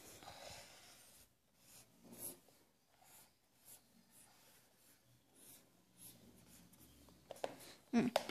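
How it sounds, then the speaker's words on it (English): Pen or marker strokes drawing a heart diagram during a pediatrics lesson on ventricular septal defect: faint, intermittent scratchy strokes in short bursts, quiet overall, with a brief louder tap near the end. "Let me draw the heart again."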